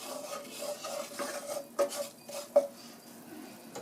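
Sausage gravy cooks down in a pan while a utensil stirs and scrapes it. The scraping is soft and quiet, with a few louder knocks against the pan.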